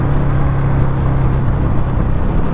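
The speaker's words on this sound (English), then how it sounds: "Engine sounds great, especially on let off." A 2021 Indian Scout Bobber motorcycle engine drones steadily while riding, a loud continuous rumble mixed with wind rush, holding an even pitch throughout with no one speaking.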